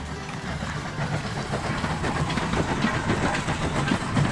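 Train rolling along a railroad, a dense rumbling rattle of wheels on track with faint rhythmic clatter, steady and moderately loud throughout with no voices.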